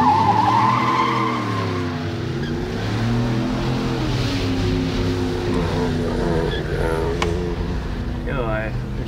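A car engine revs and tires squeal in a drawn-out skid, the engine note rising and falling loudly and close, with people talking over it.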